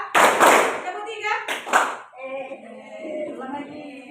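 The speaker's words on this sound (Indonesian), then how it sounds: "Tepuk satu, tepuk dua, tepuk tiga." Children clap their hands in a counted, chanted rhythm during a classroom activity, bursts of claps between lively voices and chatter in a room.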